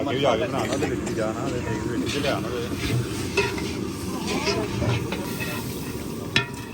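Chickpeas stirred and fried in a pan for deggi chana pulao, giving a steady close sizzle with scraping stir strokes throughout and a sharp clink near the end, while a person talks in the background.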